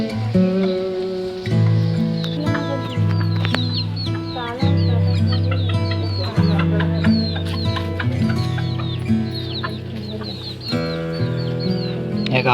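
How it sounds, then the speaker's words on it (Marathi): A large village rooster and hens clucking nearby, with repeated short clucks and chirps over a steady low background hum throughout. "गावच्या कोंबड्या मस्त आहे. बघा कसा मोठा आहे"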